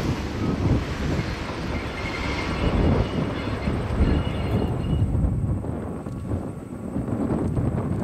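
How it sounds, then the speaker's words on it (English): A steam train rolls downhill on a grade above the Pacific Ocean in New Zealand's South Island, its heavy rumble and rail noise continuous and fairly distant, mixed with wind buffeting the microphone. "the train snakes downhill towards Merton, whilst high above the Pacific Ocean."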